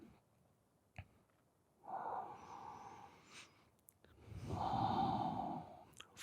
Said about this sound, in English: 2 full deep breaths.